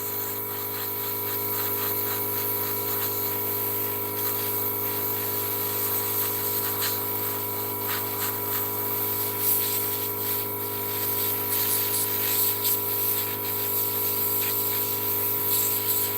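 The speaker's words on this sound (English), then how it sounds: "I'm doing practicing my airbrushing skills on a couple of dreadnoughts" An airbrush sprays paint onto Warhammer dreadnought miniatures, giving a continuous close hiss over a steady compressor hum that stays even throughout.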